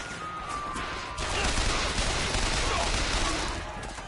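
Continuous rapid gunfire from a weapon in the video game Bioshock Infinite, loud and dense, swelling midway and sustained without pause.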